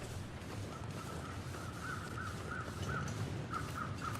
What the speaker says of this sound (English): That's the crows over the dead guy in the canyon.